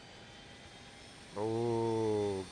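A Lear 35 jet engine spools up in a flight simulator game, a faint background hum suddenly giving way to a loud rising whine with strong tonal layers that holds for about a second before dropping away.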